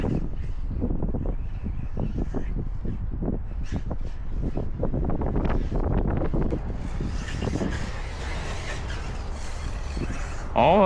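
Wind buffets an outdoor microphone in loud, irregular rumbling gusts during a run of a TLR-tuned Arrma Typhon RC car, with a faint motor whine rising near the end.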